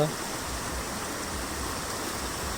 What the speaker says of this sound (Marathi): नदीला पूर पहा किती आला आहे भरपूर किंवा मोठा पूर आला आहे